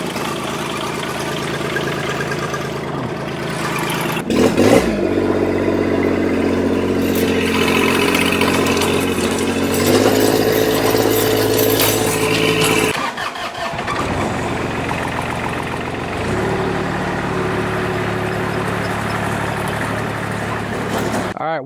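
A 24-year-old Grasshopper 928D diesel mower running without a muffler cranks and starts, then runs loud and raw near the listener while cutting grass, with its engine note dropping and rising again partway through.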